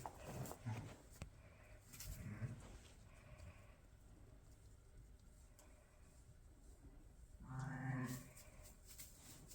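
New lambs bleat on a sheep farm, with several short, close calls spread across the clip and a louder bleat near the end, against quiet farmyard background.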